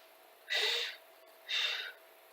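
Two forceful, breathy exhalations during a Pilates exercise, each about half a second long and a second apart, close and clear against a quiet room.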